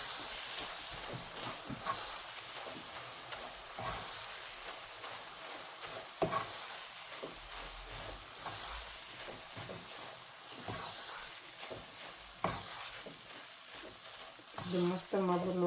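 A spatula scrapes and stirs roasted gram and wheat flour in a pan after milk is added off the heat, producing soft hissing sizzle and rhythmic scraping, with a person talking over it.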